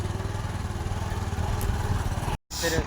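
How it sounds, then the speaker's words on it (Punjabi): Tractors hauling soil beneath a bridge chug with a steady, pulsing mid-range engine drone, moderately close and continuous, briefly cutting out near the end before resuming. "ਟਰੈਕਟਰਾਂ ਨਾਲ ਮਿੱਟੀ ਪਾਈ ਜਾਂਦੇ"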